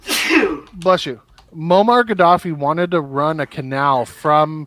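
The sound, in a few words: sneeze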